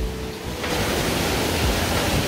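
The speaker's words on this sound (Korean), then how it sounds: "여기 바로 앞에 물살이 굉장히 많네요" Rushing water churns in a strong current just below Mujoochae Waterfall in Gapyeong, a loud, steady, close broadband roar that swells slightly after the first half-second and carries no voices.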